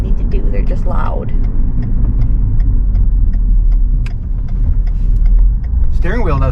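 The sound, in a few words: loud tire noise of a 2008 Ford Escape driving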